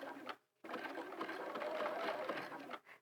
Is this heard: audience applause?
no